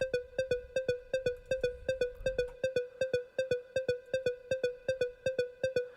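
A repeating synth pattern of short, bright plucked notes in an even, quick pulse, with a low rumble fading out early.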